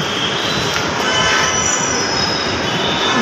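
Delhi metro train arriving at Chandni Chowk station, a loud continuous rumble of wheels on rail with a faint squeal, close and steady with no voices.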